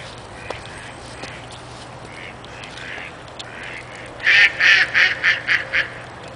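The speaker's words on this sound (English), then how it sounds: "Yep, the ducks are in the water." Quiet snowy outdoor ambience with faint distant quacks, then a close duck breaks into a loud run of about six rhythmic quacks near the end.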